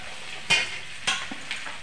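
Mashed potatoes tip into a pan of lightly fried onions, setting off a steady close sizzle of frying with a few louder bursts and stirring scrapes.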